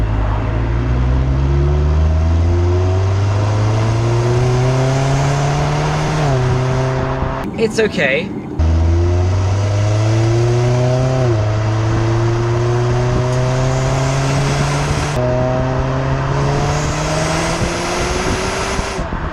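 Jaguar XE R-Sport exhaust revving repeatedly, the engine note climbing and falling in several loud pulls with a short gap of rustling between them; a voice speaks briefly.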